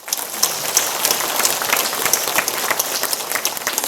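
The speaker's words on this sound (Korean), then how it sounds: "축하와 격려의 박수를 보내드립니다." Audience applause at a school book-launch celebration, a dense, close burst of many hands clapping that stays steady and lively throughout with no talk.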